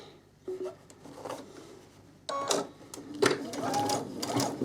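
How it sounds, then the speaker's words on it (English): A sewing machine basting a long stitch along cushion fabric, running in short, close bursts of mechanical whirring and stitching clatter, with a voice speaking in between. "I'm just going to baste with a long stitch"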